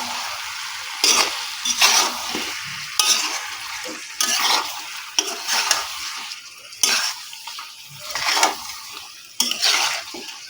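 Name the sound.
mutton being stirred and fried with spices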